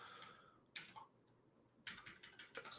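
Two quick bursts of computer keyboard typing during a TypeScript programming session, with clustered keystroke clicks that are close and fairly soft, separated by a quiet pause.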